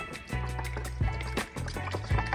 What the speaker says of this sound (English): Add a little water and stir.